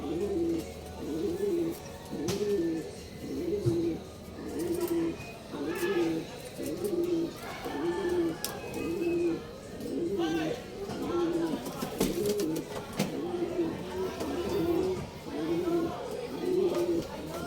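Racing pigeons coo in a steady, repeating rhythm close by, with a low hum of other birds behind them and a person speaking in between.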